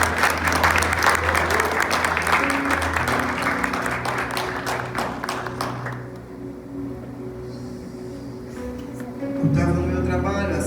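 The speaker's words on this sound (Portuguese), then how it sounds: "Você pode aplaudir o Senhor essa manhã?" A church congregation applauds the Lord during a morning service, a dense wash of clapping that fades partway through, with sustained music and voices underneath before the clapping swells again.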